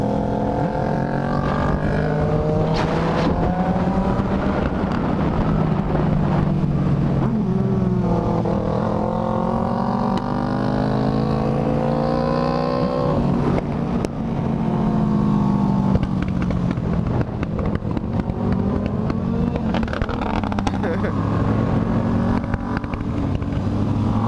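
Two motorcycles, a GS750 and an MT03, ride together at night. Their engine notes climb and fall through the gears in a continuous, loud, layered drone with no pauses.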